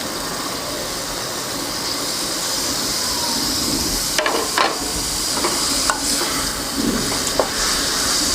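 Minced meat frying in a pan gives a loud, constant sizzle, with a few sharp metallic clinks of stirring in the second half.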